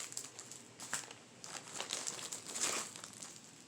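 Stationery papers, small notepads and envelopes are handled close by, giving a continuous crinkling and rustling with brief crisp bursts throughout, no talking.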